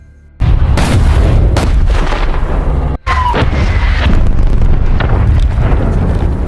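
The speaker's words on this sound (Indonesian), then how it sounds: "memerintahkan pasukan artileri untuk menghabisi musuh dengan tembakan jarak jauh" Loud booming explosions erupt in rapid succession, heavy rumbling blasts of artillery fire with a brief pause before more detonations.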